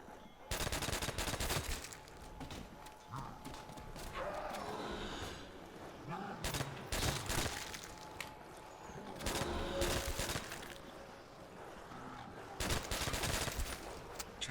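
Gunfire from Call of Duty zombies mode on the Nacht der Untoten map, with repeated bursts of shots in clusters through the clip amid game noise and some voice sounds.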